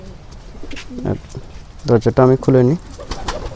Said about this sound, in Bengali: এটা দেশি কবুতর।